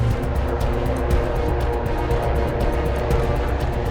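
Racing cars on a circuit near Coppice, including a white, orange and black sponsored car, with engines droning loud and continuous at close range and a rapid, regular pulsing running through the roar.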